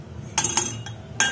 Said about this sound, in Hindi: अब हम इसे हिला देंगे अच्छे से।